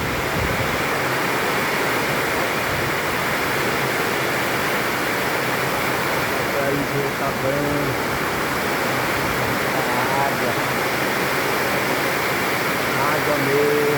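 Heavy rain pours steadily in Manaus, Amazonas, a dense, unbroken hiss that fills the whole scene, with a brief spoken remark heard over it.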